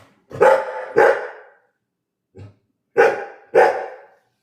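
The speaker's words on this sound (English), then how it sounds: "I can hear it's Noah's bark" A dog barks four times nearby in two pairs of loud, sharp barks, with a short soft yip between them.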